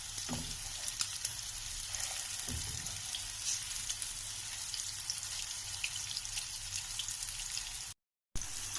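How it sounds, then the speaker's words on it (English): Fish frying in a pan with oil, giving a steady, dense hiss and crackle that stays close and even throughout, with a couple of soft bumps near the start. "Now wait for 2 to 3 minutes and let it fry well"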